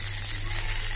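Chicken kathi kabab mixture of onion, tomato and capsicum sizzles steadily in an oily pan, a close, continuous frying hiss with no voices.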